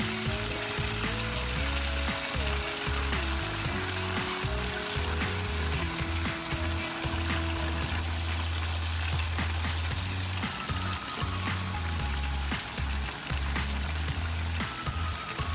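Prawns sizzling in a cast iron pan as homemade sweet chilli sauce is poured over them, a loud continuous frying crackle with sharp pops, accompanied by steady background music throughout.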